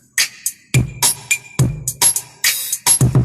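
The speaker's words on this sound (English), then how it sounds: "So when I put the reverb on, listen to it." Short burst of a mixed drum kit with reverb added, kick, snare and cymbal hits ringing out with a roomy wash between strikes, loud and up front.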